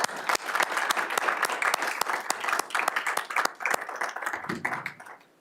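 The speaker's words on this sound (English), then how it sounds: "How about a round of applause?" Applause at a Board of Education meeting honoring a departing member, a group clapping steadily with distinct individual claps for several seconds before tapering off, close and moderately loud.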